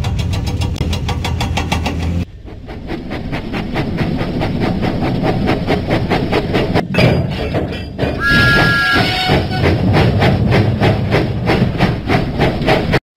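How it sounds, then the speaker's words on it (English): Thomas the Tank Engine chuffs steadily along the track in a Thomas and Friends Lift, Load and Haul video game, with rhythmic steam puffs and rolling rail noise under game music, loud and continuous throughout. "Huffing and puffing, Thomas set out for Farmer McCall's farm"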